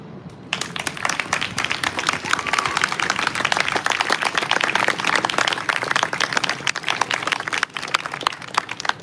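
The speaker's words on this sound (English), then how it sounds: "We can honor all that I just mentioned with a sustained round of applause for surviving." Sustained round of applause from an audience at an outdoor multifaith peace picnic and 9/11 memorial, dense steady clapping holding for several seconds, fairly loud and fading slightly near the end.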